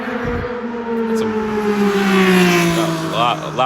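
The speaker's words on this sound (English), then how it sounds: "loud, ostentatious motorcycles driving by here." Loud motorcycles roar past in succession, their engine drone holding steady, then dropping in pitch as they pass, with a brief voice near the end.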